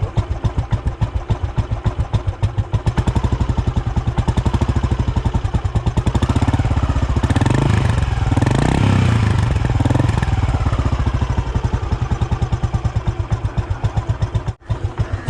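An old Royal Enfield Bullet Machismo 350 with a restored AVL engine and an Indori silencer runs steadily, its thumping exhaust beating in an even, close rhythm throughout with a brief dip near the end.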